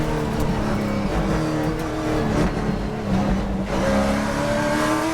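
Onboard engine of Brent Cruz's TA2 race car at World Wide Technology Raceway, a loud, steady, close engine drone with slight pitch shifts as it holds speed, no voices over it.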